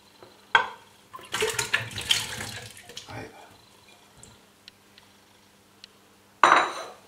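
Cut potatoes drop into water with a dissolved stock cube while hake and potatoes are cooked in a home kitchen, giving a brief sharp clink, a burst of splashing and rattling, quiet handling, then another loud splash.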